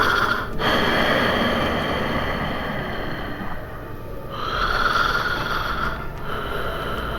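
A voice imitates heavy, wheezy breathing with long, rasping breaths in and out, close and loud, in a slow rhythm of about three drawn-out cycles.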